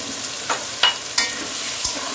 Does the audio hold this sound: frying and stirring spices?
yes